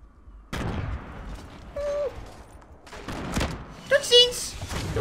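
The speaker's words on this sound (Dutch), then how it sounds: "Al die explosies." Explosions and gunfire in the Fortnite Battle Royale explosive game mode, a series of sharp blasts and thuds with a few mechanical clanks, scattered irregularly amid game noise while someone talks.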